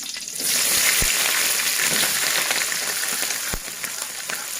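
Spice paste hits hot oil with a loud, steady sizzle for a Javanese mangut dish, the frying hiss broad and continuous, with a couple of sharp clicks of a utensil against the pan, no voices.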